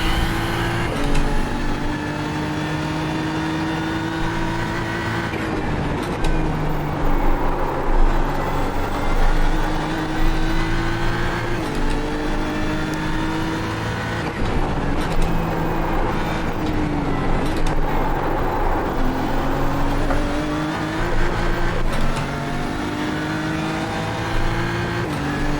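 A BMW M4 GT3 race car in the iRacing sim at Imola roars loud and close, its engine revving up and down through gear changes, rising and falling pitch sweeps with no pauses.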